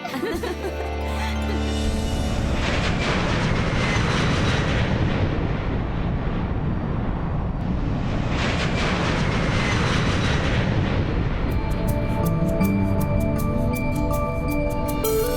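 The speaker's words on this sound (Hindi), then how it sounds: "विमान अब टेक ऑफ कर चुका है।" A passenger airplane takes off with a loud, broad jet roar that swells, eases briefly and swells again, holding steady and strong to the end, with no voices over it.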